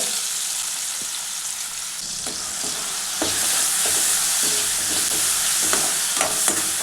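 Steady hiss of cut banana frying in hot ghee in a pan, with occasional clicks and scrapes of stirring, no voices.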